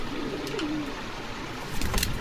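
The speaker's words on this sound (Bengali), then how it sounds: "কি কবুতর এটা? গিরিবাস, একবারে অরিজিনাল রাজশাহী গিরিবাস" Rajshahi Giribaz pigeons at a pigeon farm give a soft, low coo amid a quiet background hum, followed by a few faint chirps near the end.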